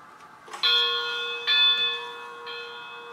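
A Tsunami steam sound decoder plays a model locomotive bell that rings three times at a steady pace, each strike bright and sustained before slowly fading, heard at moderate volume with no talking.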